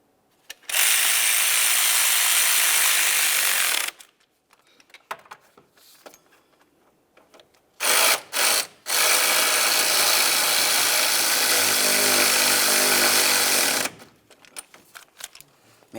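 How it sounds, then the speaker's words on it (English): Alternator bolts tightened on a Volkswagen Jetta with a power ratchet, two close, loud whirring bursts of several seconds each separated by short gaps and faint clicks, then softer clicking at the end. "Once both of them are started, you can go ahead and start snugging them up."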